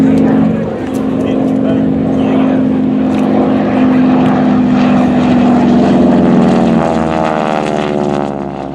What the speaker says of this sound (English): This is the traditional victory roll.